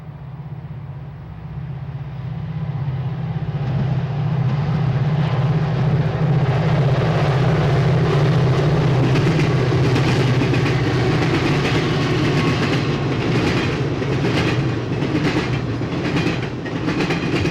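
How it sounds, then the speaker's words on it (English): A westbound Conrail intermodal train passes through Berea at dusk, a loud continuous rumble of engines and wheels with steady clickety-clack from the cars rolling by close at hand throughout. "a new intermodal train and one of Conrail's hottest trains heads west through Berea at 7:41 p.m."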